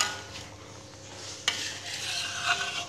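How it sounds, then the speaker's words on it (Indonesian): Spoon stirring sambalado tanak, a Minang chili sauce, in a pan, with soft continuous scraping and a gentle sizzle, plus one sharp clink of utensil against the pan partway through. "Diaduk-aduk terus."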